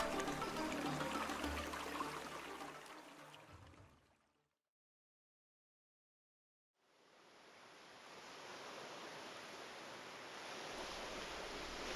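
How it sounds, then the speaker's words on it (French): Steady wash of surf rushing in on sand, cutting to near silence for a few seconds before the broadband roar of waves returns and holds. "Les vagues viennent s'écraser contre le sable."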